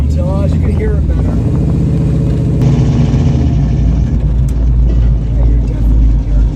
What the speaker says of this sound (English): you can really feel the bass from the exhaust with the top down like this